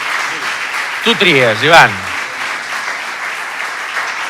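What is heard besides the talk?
audience applause for Ivan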